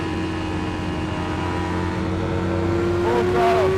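A Kawasaki Ninja 400 motorcycle at full throttle, a steady, close engine drone whose pitch climbs near the end as it revs higher, with the rider's voice faintly present.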